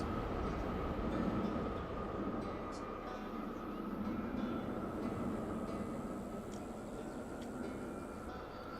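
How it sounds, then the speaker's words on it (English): A roller coaster train in Planet Coaster 2, on a build of Six Flags Magic Mountain's West Coast Racer, gives a quiet, continuous rolling rumble with a steady hum throughout. "What do you guys think of the train so far?"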